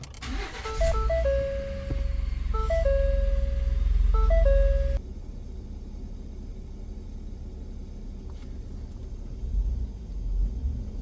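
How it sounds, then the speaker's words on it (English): A 2021 Ford F-150 engine cranks and catches after a series of electronic warning chimes, then settles into a low, steady idle rumble close by with no talking. "Let me go ahead and start the vehicle up."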